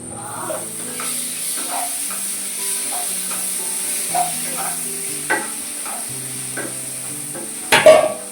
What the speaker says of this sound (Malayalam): ഇനി ഇത് നല്ല രീതിയിൽ മിക്സ് ചെയ്യാം